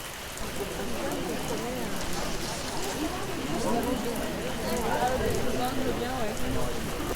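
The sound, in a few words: rain falling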